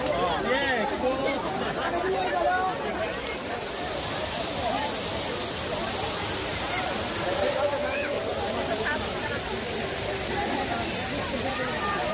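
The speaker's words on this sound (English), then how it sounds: "Niasar's waterfall cascades down rocky cliffs, creating a soothing symphony of nature" Waterfall at Niasar village near Kashan, Iran, cascading down rocky cliffs: a steady, broad rushing roar that holds evenly throughout, with no breaks.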